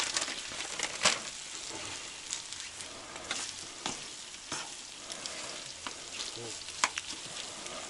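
Porridge is reheated in a pan on a stove, most likely at a camp by the White Sea, giving a steady sizzle with scattered clicks and scrapes of stirring, close and moderately loud, with no talk.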